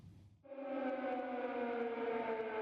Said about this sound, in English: Residents in Kyiv awoke to the usual wails of air raid sirens.